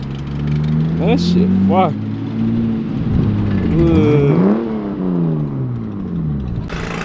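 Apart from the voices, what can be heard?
Toyota Supra car engine driving by at drift event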